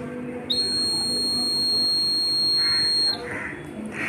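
Laser security alarm with an LDR sensor sounding: a steady, shrill, high-pitched buzzer tone holds for about two and a half seconds over a constant background hiss, then cuts off.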